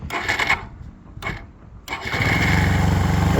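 A Suzuki Djebel 200 motorcycle engine turns over in a few short cranking bursts, then catches and settles into a loud, steady, close-up idle. No one speaks.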